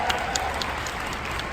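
An audience claps in a lecture setting, a brief steady burst of applause with scattered sharp hand claps, moderately close and without talk.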